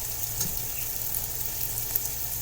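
Frozen chopped onions, peppers and celery go into a hot pan for Cajun mac and cheese, giving a steady, close sizzle with a few faint knocks.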